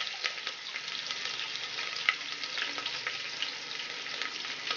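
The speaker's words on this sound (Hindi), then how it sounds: "चिकन को थोड़ी देर इसमें फ्राई करना है जिससे उसके जूसेस जो है अंदर लॉक हो जाए।" Chicken fries in a pan for Koyla chicken with a constant close sizzle and light crackle, plus occasional faint stirring scrapes and no talking.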